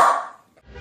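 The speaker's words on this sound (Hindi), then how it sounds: "कुत्तों का भौंकना" A single short dog bark, sharp and fairly close, fading quickly into a quiet pause and faint noise.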